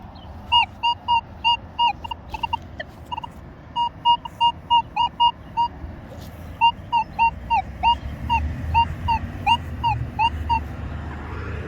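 A Minelab Manticore metal detector sweeping over a target sounds a rapid series of short, clear electronic tones in rhythmic bursts, with pauses between groups and a low rumble of handling noise underneath.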